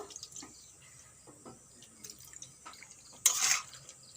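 A small splash of water is poured into spiced maya fish in a cooking pan, a short bright gush near the end following faint scattered clinks and handling noises, with no talking.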